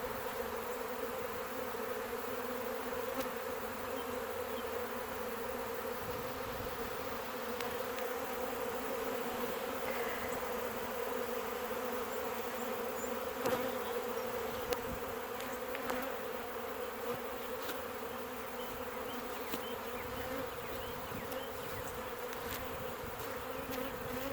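A swarm of honey bees produces a steady, dense buzzing drone that holds evenly throughout, close and fairly loud, with a few faint clicks and knocks in the background.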